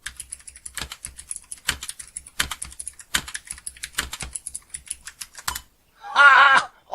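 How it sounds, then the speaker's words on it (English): Fingers type on a full-travel clicky computer keyboard, producing rapid, bright clacking keystrokes in bursts with brief pauses, close up, followed by a short voice at the end. "it's a full travel clicky keyboard and I can type on it"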